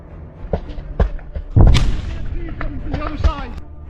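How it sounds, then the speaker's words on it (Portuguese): A fragmentation grenade blast in combat footage, a heavy deep thud around the midpoint with a rumbling tail, amid scattered thumps and distant bangs. "Um dos soldados da Chosen lança uma granada de fragmentação onde estão os últimos russos."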